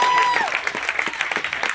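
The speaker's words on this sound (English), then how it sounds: "Please give them a big round of applause" Audience applause at a ceremony, a burst of quick, uneven hand claps with a whistle-like cry at the start and voices mixed into the clapping.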